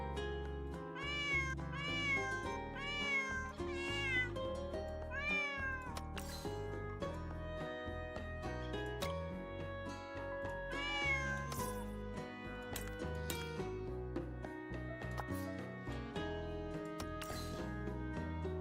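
A greeter cat in Girls' Frontline 2: Exilium meows repeatedly, with quick clustered calls and a few drawn-out, bending ones, over continuous background game music.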